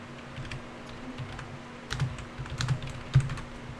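Keys clacking on a computer keyboard during a Minecraft survival session, several scattered keystrokes sounding near and fairly quiet over a steady low hum, with a busier burst toward the end.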